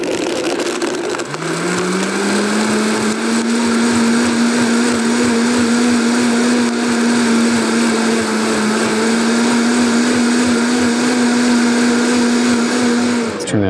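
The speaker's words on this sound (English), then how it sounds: "on the Vitamix mixer blender here" A Vitamix blender whirs loudly and steadily through smoothie ingredients, its motor spinning up in the first seconds and then holding a constant high-speed roar for the rest of the run, with no talking over it.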